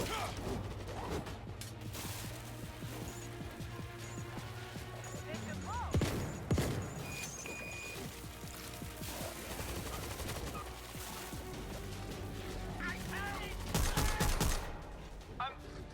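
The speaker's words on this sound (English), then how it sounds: "We are in luck, another auto turret." An auto turret fires in the co-op shooter World War Z, rapid gunfire and clattering mechanical noise layered under game effects and voices calling out, with heavier bursts of shots near the end.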